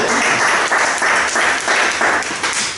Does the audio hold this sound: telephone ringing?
no